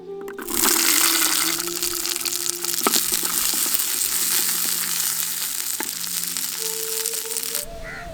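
Shallots frying in oil in a pan for a mutton kothu kari masala give a steady, loud sizzle that starts abruptly and runs unbroken for about seven seconds, with a few small clicks, then cuts off.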